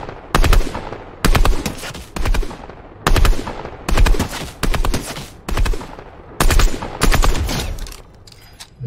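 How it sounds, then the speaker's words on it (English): Repeated bursts of automatic gunfire in the Fortnite video game, loud and close, firing in short volleys about once a second with brief gaps between them and no talking. "Is that you shooting?"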